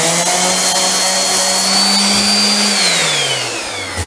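A power sander whines steadily and loudly, close up, while stripping old paint from a white wooden rocking chair, its pitch sagging slightly before it cuts off abruptly.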